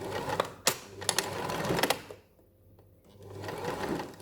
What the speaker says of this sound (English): I'm going to start with a forwards backwards stitch